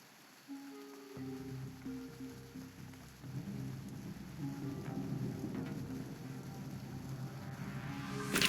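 Rain and thunder in the video game Reverse: 1999, a continuous hiss building gradually over low sustained music, with a rumbling swell and a sharp brightening crack right at the end.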